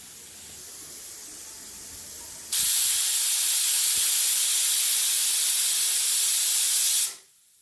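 A pressure cooker cooking mutton handi vents with a sudden loud, steady steam hiss that starts abruptly, holds for several seconds, then cuts off, heard close with no talking.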